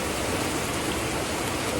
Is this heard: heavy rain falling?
yes